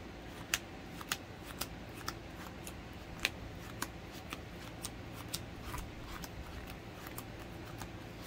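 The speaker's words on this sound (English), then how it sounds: "I am going to just do a quick power shuffle here." A deck of trading cards for a Dogmatika deck is power shuffled in a steady run of crisp riffling snaps, fairly quiet and close, with no talking.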